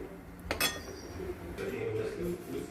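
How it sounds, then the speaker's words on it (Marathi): A pot lid is lifted off a simmering curry of sprouted mung beans, giving one sharp metallic clink followed by quieter kitchen rattles, with faint talk in the background. "चला बघा, आता आपण झाकण काढून घेतलं."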